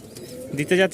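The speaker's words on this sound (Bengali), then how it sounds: "আপনাদের জন্য কিছু টুকটাক কবুতর ছিল, ওগুলোই দিতে যাচ্ছি" Pigeons kept for sale at a home in Mirpur-1, Dhaka, give a brief, close burst of soft throaty cooing.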